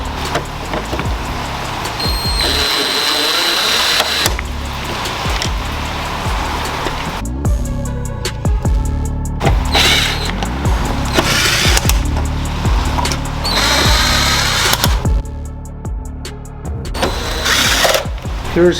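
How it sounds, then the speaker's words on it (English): A power tool whirs in repeated bursts close by, pausing between runs, as bolts come out of the fender on a Corvette C6 during a headlight replacement. "we're gonna go ahead and take off all the bolts in the fender right here"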